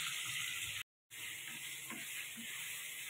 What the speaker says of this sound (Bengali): পনিরটা ভেজে নেব।